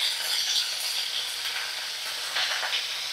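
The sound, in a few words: frying broad beans in a pan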